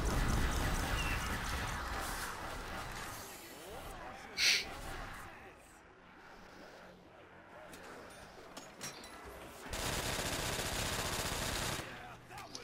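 Bursts of machine-gun fire rattle at zombies in Call of Duty: World at War Nazi Zombies with a realism mod, loud rapid volleys at the start and again later, with talking between them.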